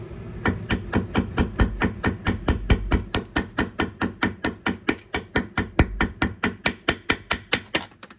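A hammer strikes a sleeve onto a trailing arm stud insert on a Triumph TR6 in a long, steady run of about forty evenly spaced metallic blows, close and alone.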